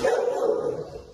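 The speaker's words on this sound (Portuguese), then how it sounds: "Cachorro aqui." A dog gives a loud, close, drawn-out bark or yelp lasting about a second, with no other sounds.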